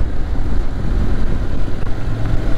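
Honda X-ADV scooter-style motorcycle with a torquey, undersquare economical engine accelerating at Interlagos circuit, a continuous low engine drone and wind rumble for a few seconds, fairly close, without talk.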